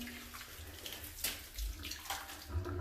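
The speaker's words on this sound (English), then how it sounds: "I'm gonna pour my solution of water and OxiClean." Water mixed with OxiClean is poured onto a plastic shower floor mat, a soft splashing gush that keeps going throughout, quiet and alone without talk.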